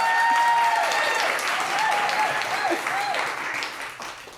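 An audience claps and cheers together, a warm burst of applause that slowly fades out.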